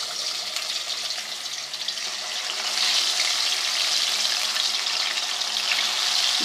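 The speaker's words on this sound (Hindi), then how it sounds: "तो हम मछली को फ्राई करना शुरू करते हैं।" Fish pieces frying in hot ghee over a medium flame give a steady, dense sizzle that swells louder about halfway through and holds there, with no talking.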